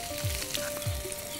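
Sliced onions frying in oil with curry leaves for a prawn dal curry, giving a continuous close sizzle broken by two soft low thumps.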